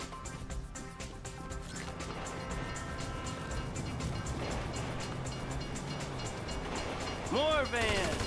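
Train rolling past in GTA 5 on a snowy North Yankton level, a steady dense rumble with repeating clatter, rising slightly in loudness, with a short horn-like whine near the end amid game sounds.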